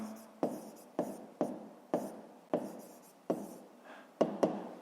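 Pen writing numbers on paper for a fifth-grade math exercise, a series of eight or so short scratchy strokes at a steady rhythm, close and quiet, with no talking.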